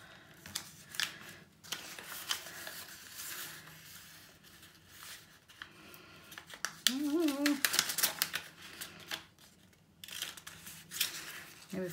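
Sheets of paper folded by hand along dotted lines during a classroom-style craft activity, giving intermittent crisp crinkles and creasing rustles over about twelve seconds, with a voice speaking at times.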